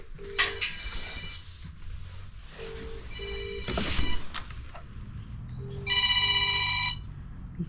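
A telephone ringing indoors, repeated short electronic ring bursts in a pattern, one louder trill near the end, amid faint clatter and background movement.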